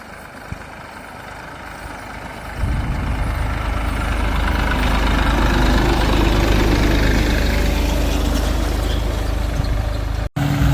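A tractor engine starts up loud and close after a quieter opening, then keeps running in a steady heavy low rumble, with a brief break near the end.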